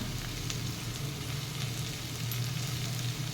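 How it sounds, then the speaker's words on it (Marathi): Capsicum and potatoes fry with red chilli powder and garam masala in a pan, giving a steady, close sizzle with a low hum beneath and no voices. "शिमला मिरची पण छान परतून झाली त्याच्यामध्ये आता हे मी बटाटे घातलेले आहेत"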